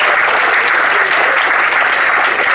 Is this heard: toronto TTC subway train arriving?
no